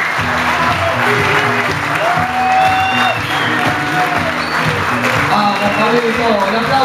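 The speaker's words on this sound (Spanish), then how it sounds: "Un aplauso, un aplauso." Guests at a year-end dinner party give sustained applause over background music, with a voice talking through the clapping.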